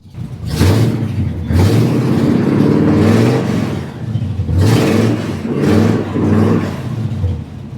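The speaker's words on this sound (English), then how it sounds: "I got it started for you. Rev it up." A 7.3 Powerstroke diesel swapped into a 1941 Ford revs up close and loud, repeated throttle blips rising and falling over a rough, deep idle.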